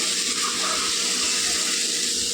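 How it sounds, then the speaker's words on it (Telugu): Tamarind extract poured into an egg and drumstick curry, a loud, close, continuous liquid gush lasting the whole moment with no talking. "ఇప్పుడు ఇందులో చింతపండు పులుసు వేసుకుందాం"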